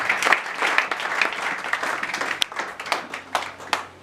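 Congregation applauding at a church service, a sustained bed of many hands clapping in a hall with irregular louder bursts, moderately close, without speech.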